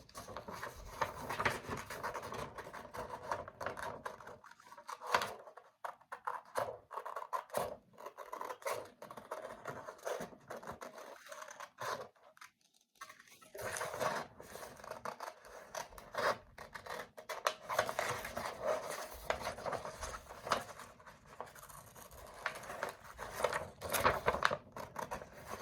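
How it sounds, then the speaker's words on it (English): Safety scissors snip and rasp through paper while cutting out a heart shape, a close, quiet run of scratchy cuts with short pauses between strokes. "Now I want you to cut the heart out"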